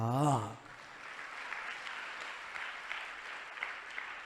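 A congregation claps during a church sermon, with a preacher's voice cutting off at the start, then a steady wash of moderately faint, scattered applause that lasts to the end.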